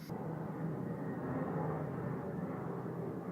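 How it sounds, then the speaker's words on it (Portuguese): An airplane passing overhead: a faint, steady low rumbling drone that holds at a constant level for a few seconds with no talking over it. "Avião."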